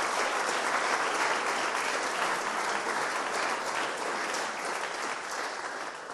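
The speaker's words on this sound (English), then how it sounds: "let's give them a round of applause" A large audience at a game character creation event at Gnomon claps continuously for the people on stage, a thick, even wash of applause that holds steady for several seconds with no talking.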